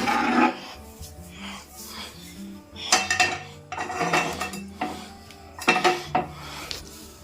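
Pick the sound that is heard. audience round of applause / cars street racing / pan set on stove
pan set on stove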